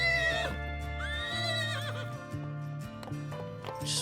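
A Minecraft horse neighs loudly in a long whinny, then more whinnies and snorts follow alongside clip-clop hoof steps, all in a blocky video game setting.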